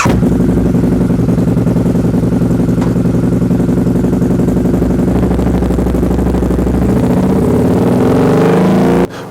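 A motorcycle fitted with a Power Vision auto-tune runs loud and close, a steady throbbing engine drone that holds for about nine seconds before cutting off abruptly.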